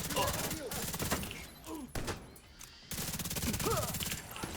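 Enemy gunfire in a video game, rapid rattling bursts of automatic fire running through most of the stretch, with a brief lull in the middle and someone talking over it.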